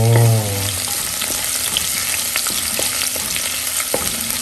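Onions fry for a sotanghon soup with crab, a steady loud sizzle with occasional stirring clicks throughout, after a brief tonal beep at the start.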